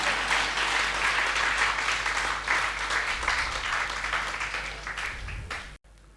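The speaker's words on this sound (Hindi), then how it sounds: "तालियां बजाइए आप अपने लिए।" An audience at a Hindi poetry recitation gathering breaks into sustained, dense applause, loud and continuous for several seconds before cutting off abruptly near the end.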